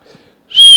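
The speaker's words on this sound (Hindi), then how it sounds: "ये सीटी मारने की कोशिश थी।" A person trying to whistle: after near silence, a sudden thin, high whistle tone bursts out loudly and holds steadily to the end.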